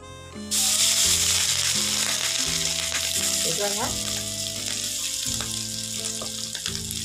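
Two spoonfuls of black cumin seeds dropped into hot oil in a pan, bursting into a loud, bright sizzle that stays dense and crackling with some tonal hum and clatter beneath, close up, no voices.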